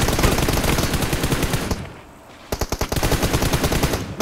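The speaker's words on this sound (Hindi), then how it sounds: "उधर से वो फायर दे रहे हैं।" Rapid automatic gunfire from the PUBG video game, loud bursts of dense shots that break off for a moment of near quiet, then resume as a sharp rattling volley.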